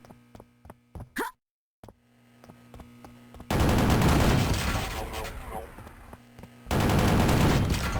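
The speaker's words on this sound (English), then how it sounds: "I'll just clear them out with the missile launcher now that I have that" Missile launcher fire in the Quake custom map Pak Attack, Brutalist Jam 3: a sudden loud burst of explosive blasts and rumbling impacts fills the second half after sparse quieter game sounds and a brief pause.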